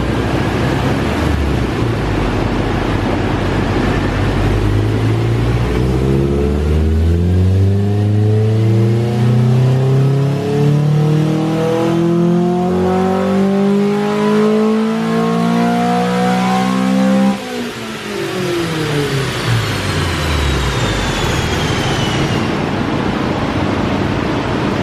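A Honda K20A engine in a 2000 Civic Si revs on a dyno, rising steadily and loudly through the gears for a long pull, then drops off sharply and winds down near the end.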